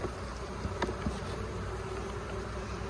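Honey bees buzz inside a beehive in a steady, dense drone that fills the whole stretch, with a couple of faint knocks near the start.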